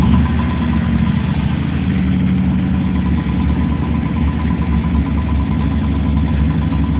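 A 1995 Chevrolet Camaro Z28 with an LT1 V8 idling, a loud, steady, rumbling burble that holds even throughout, heard close with no talk.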